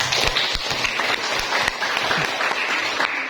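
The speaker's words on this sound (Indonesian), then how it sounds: "Tepuk tangan untuk kelompok kuning." Classroom applause for a student group, the yellow team, after a presentation on world music history: a steady wash of many hands clapping at once, fairly close and continuous.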